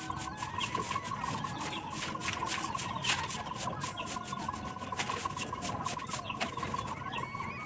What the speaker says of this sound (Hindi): जब तक सब लोग आ रहे हैं तब तक हम पूरी छत में झाड़ू लगा लेते हैं